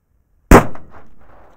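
A single loud, sharp firecracker bang from a rare German Böller, cracking close by and then trailing off into a short, faint echo.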